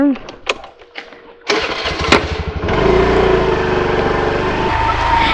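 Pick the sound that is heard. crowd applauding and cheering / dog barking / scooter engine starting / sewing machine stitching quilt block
scooter engine starting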